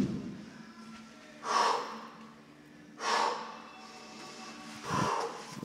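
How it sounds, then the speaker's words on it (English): Deep, heavy breathing from a person recovering after kettlebell exercise, three loud, drawn-out breaths spaced about every one and a half seconds, close to the microphone, with quiet gaps in between. "You can hear me breathing deep."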